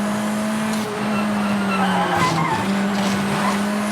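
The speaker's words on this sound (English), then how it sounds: "Just let the car slide." A rally car in the V-Rally 4 video game slides across tarmac, its engine droning steadily while tyres squeal and skid in long continuous smears, loud and close throughout.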